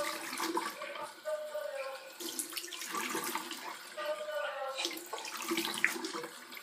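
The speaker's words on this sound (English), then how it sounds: "trying to wash at the sink so it doesn't get like stained or anything. This water is blazing hot." Hot water running from a sink tap while hands are washed, a steady rushing stream with splashing that rises and falls over several seconds, with some faint voice-like sound mixed in.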